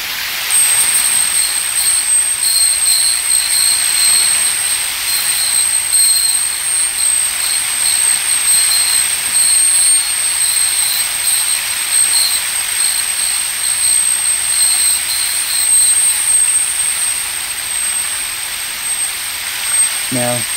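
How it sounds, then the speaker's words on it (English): Ocean waves crash over one another underwater, picked up by a hydrophone: a dense, steady roar of surf hiss with a thin, high, continuous whine running through it for the whole stretch. "you're hearing thousands and thousands of waves crashing over each other"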